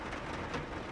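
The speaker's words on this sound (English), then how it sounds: "You might hear a little rain in the background." Light rain falls outside on a rainy day, a faint, even hiss of patter that stays steady and distant throughout, with no voices.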